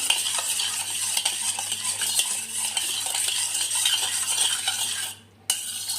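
A spoon stirs sugar and lemon in a bowl for homemade watermelon ice cream, scraping and clinking in a continuous, close rhythm with a brief pause near the end.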